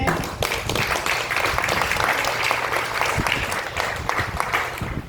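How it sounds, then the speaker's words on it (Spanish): Congregation applause during a Spanish-language church lesson, steady dense clapping from many hands filling the room for about five seconds, loud and continuous. "Denle un aplauso al Señor si puede."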